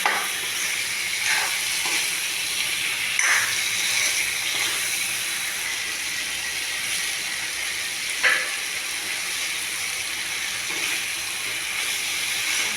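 Ripe homegrown pumpkin pieces with potatoes fry in hot oil in a pan, giving a steady loud sizzle throughout with occasional stirring scrapes, with no talk.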